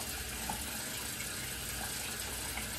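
A shaving brush is rinsed under a running tap, giving a steady, even rush of water throughout with no voices.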